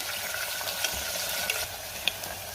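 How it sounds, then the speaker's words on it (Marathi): Sliced onion sautés with curry leaves in a pan for tomato pulao, producing a soft continuous sizzle with light stirring clinks and scrapes, fairly quiet and close, with no voices. "कांदा मी 2 मिनिटं परतून घेणार आहे"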